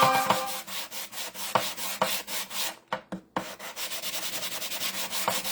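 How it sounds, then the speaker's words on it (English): Sanding strokes rub back and forth over a surface to give it a faded look, a close, steady rhythmic scraping with a brief pause midway, and no voices. "I'm gonna sand this back a little bit just to make it more faded."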